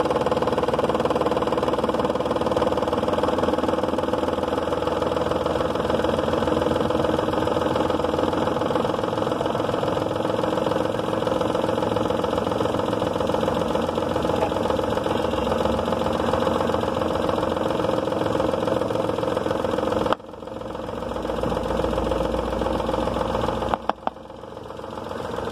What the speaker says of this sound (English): start your car's engine